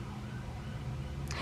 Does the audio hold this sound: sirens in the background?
yes